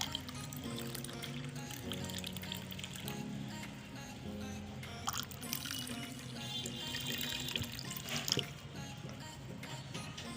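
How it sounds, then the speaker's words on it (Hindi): Plain water poured into a glass holding strawberry syrup for a sharbat drink, a steady trickling stream that runs continuously at moderate loudness, with a faint hum underneath and no talking. "सादा पानी शामिल करूंगी।"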